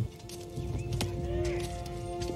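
Horse hooves clip-clop steadily in a film battle scene, a neigh rising briefly midway over a low background rumble, at moderate loudness and fairly close.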